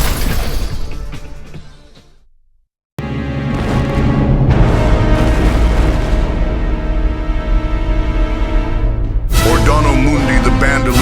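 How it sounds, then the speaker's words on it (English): A drill rig and a bomb are destroyed in a violent blast: a loud crash and roar that fades, cuts to silence, then returns as a sustained, dense burst of booming debris. "he died in the explosion as the drill rig and bomb were destroyed"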